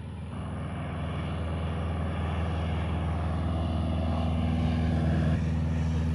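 A PT-17 Stearman biplane, also known as the N2S Kaydet, roars at full power during its takeoff run with the tail up. The radial engine drone is loud and steady, building slightly as the aircraft climbs away.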